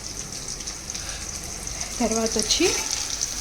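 Bitter gourd pakodi sizzles steadily in a pan of hot oil, a constant soft crackle beneath someone speaking Telugu.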